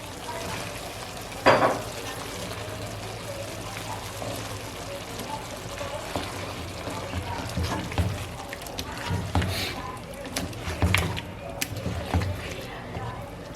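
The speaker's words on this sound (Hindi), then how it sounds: "इसी स्टेज में हम इसमें अब डाल देंगे घी डाल के तकरीबन इसे 5 मिनट तक भून लेंगे" Chicken mutanjan rice frying in ghee in a pot, with a steady sizzle and repeated stirring scrapes, close by and continuous throughout.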